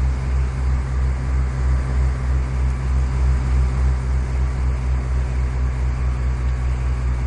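Steady, loud drone of a Cessna 172 single piston engine during a turning descent in Microsoft Flight Simulator X near Liverpool, a constant low hum with no breaks or voices.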